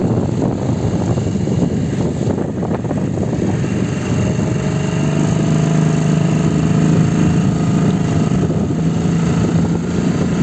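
A Storm outboard boat engine running on a river test run, a loud steady droning hum with a propeller-like whir and water wash, close and constant throughout without any talk.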